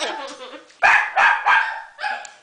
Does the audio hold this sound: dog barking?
yes